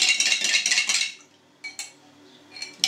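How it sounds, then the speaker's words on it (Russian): Okroshka being stirred with a metal spoon after lemon juice, horseradish and mustard go in, a rapid run of close clinks and scrapes against the bowl, then a pause and a few scattered clinks. "Тоже перемешиваем."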